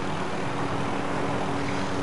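Helicopter in a zombie video game, a steady dense engine and rotor drone with a low hum, loud and unbroken for the whole short stretch.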